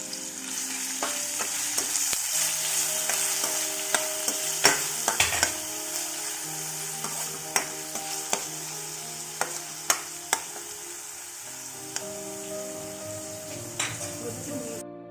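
Onion and ginger-garlic paste fry in oil in a pan for a home paneer dish, a steady close sizzle with scattered metallic scrapes and clinks of stirring throughout.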